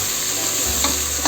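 Onions frying in a pan for chicken pulao, a loud steady sizzle filling the whole moment with a brief stir-like rustle partway through.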